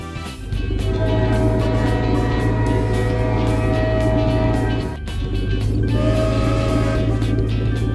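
A loud, steady cartoon train rumble with a low engine drone and rolling clatter, briefly dipping midway before resuming.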